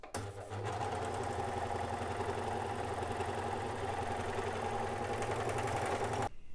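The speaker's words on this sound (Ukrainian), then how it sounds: "Виконуємо трьохнитковий шов ткань біфлікс." A Necchi Creator C12 overlocker sews a three-thread stitch on stretchy bifleks fabric, a loud, close, continuous motor whir with rapid rhythmic clatter that starts abruptly and cuts off sharply near the end, with no voices.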